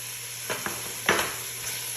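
A spiced dish with coriander leaves is stirred in a hot pan, giving a few soft scrapes and clinks over a low, steady sizzle and background hum.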